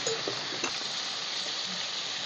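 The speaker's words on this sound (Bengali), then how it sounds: "চিকেনটা হালকা করে ভাজা হয়ে গেছে।" Chicken pieces fry in oil for a curry, giving a steady, dense close sizzle with a few faint stirring knocks.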